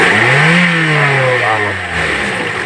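A Toyota Vios 1.3 E engine revs hard and loud, its pitch rising then falling, with a squeaking fault noise mixed into the steady close-up roar.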